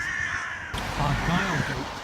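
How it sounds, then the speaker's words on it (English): Seagulls calling outdoors in Dundee while walking through the city: harsh squawking cries, close and fairly loud, with a person talking in the background. "Got lots of angry seagulls."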